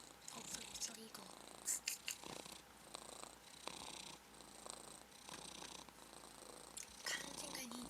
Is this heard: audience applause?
no